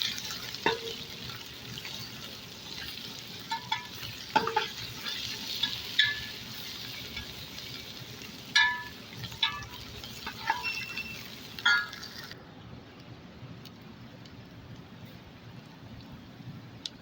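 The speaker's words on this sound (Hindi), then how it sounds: "तो इसमें अदरक लहसुन की पेस्ट डालेंगे" Ginger garlic paste fries in the onion gravy of a beef kofta curry, a soft, continuous sizzle punctuated by scattered spoon scrapes and clinks while stirring, quieter and duller after a brief change partway through.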